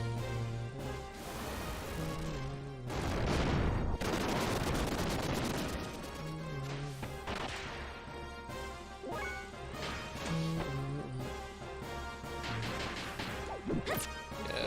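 Laser guns firing in the video game Xenogears, repeated crashing blasts and bursts over continuous loud game music, with no voices.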